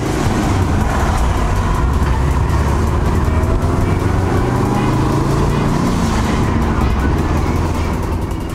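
A 1995 Subaru WRX STI 555 Edition drives along, its engine a steady low rumble with road and cabin noise holding constant throughout, loud and close from inside the car.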